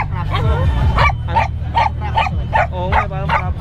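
Small dogs, a chihuahua and a poodle for sale at a Bocaue market, yip and whimper in a quick series of high barks close by, over a low background hum.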